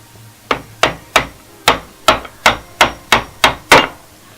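Ten sharp hammer blows in a fairly even rhythm, driving a wooden dowel through a fluted doweling jig up close, each with a bright, ringing knock.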